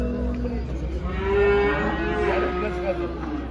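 Cattle at a livestock market in Havza, Turkey, let out a loud, drawn-out moo close by, over a steady low crowd rumble.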